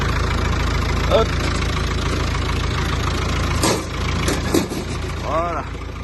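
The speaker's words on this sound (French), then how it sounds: "Tracteur démarré. Un petit coup de booster et c'est parti. Il démarre super bien, il fume pas." A diesel tractor engine idles steadily right after a booster-assisted start, running smooth and even on a rainy day of loading, a constant close rumble with brief clanks and a short voice over it.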